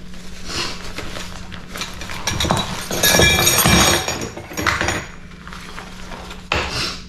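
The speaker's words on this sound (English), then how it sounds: "Feels like there's a couple of brackets in here, bolts and whatnot." Metal brackets and bolts clink and rattle inside the packaging of a shower tent, a close jumble of clattering that swells in the middle, with no speech.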